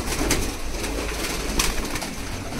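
Pamoj pigeons coo in soft, repeated throaty calls close by, over a steady background of rustling and ambient noise.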